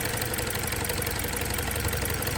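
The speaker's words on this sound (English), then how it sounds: "When I put it back, the engine runs a little bit okay." A car engine idles close up with a misfire in cylinder number 2. A continuous rough, lumpy rumble carries an uneven knocking pulse throughout.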